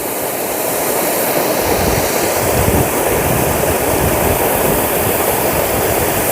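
Water pours from Dantiwada dam in a dense, steady roar that stays loud and unbroken from start to finish.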